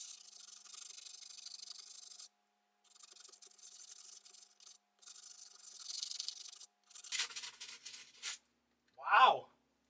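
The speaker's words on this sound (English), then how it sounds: "Just going to kind of sand some of this down." Sandpaper rubbing on an old, corroded Game Gear plastic piece, quiet scratchy strokes in several short bursts separated by pauses, followed by a brief vocal sound at the end.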